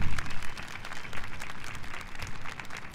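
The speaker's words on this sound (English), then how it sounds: "Could you give them a round of applause?" Applause for graduates at a community college graduation ceremony, an audience clapping in an uneven, pulsing wash with some louder nearby claps, sustained throughout.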